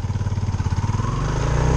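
A Yamaha Sniper 150 motorcycle engine idling close by, a loud, rapid and steady putter of firing pulses that smooths into a continuous drone near the end.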